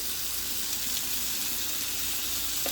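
Tomatoes and salt sizzle steadily in a hot pan for chicken kheema, a continuous close frying hiss with no break.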